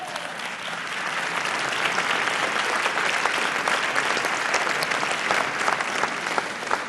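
An audience applauds at the opening of an international ocean summit, a loud, sustained round of clapping that swells after a quieter start and continues unbroken.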